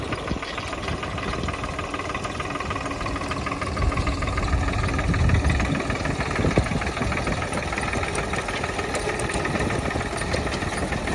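Steady, rough rumble of a tractor engine idling nearby during potato harvesting, with a constant knocking throb and no speech throughout.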